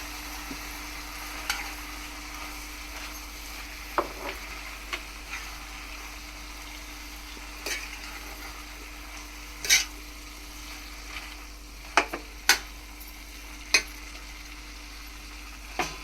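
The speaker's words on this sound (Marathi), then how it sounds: "परत चांगलं मीठ टाकून परतून घ्यायचं." Mixed vegetable bhaji is sautéed with salt in a pan over a low flame. A quiet, continuous sizzle runs throughout, broken by a few sharp spoon clinks and scrapes against the pan.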